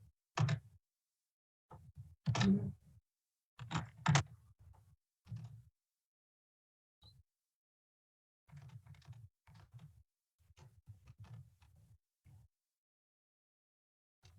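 Typing on a computer keyboard comes through as clusters of crisp, close key taps separated by pauses, quiet and with no voices heard.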